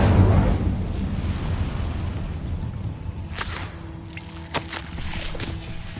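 An Incendio fire spell cast in Hogwarts Legacy, a loud roaring whoosh of flame that slowly fades into a crackling rumble, with a few sharp snaps later on.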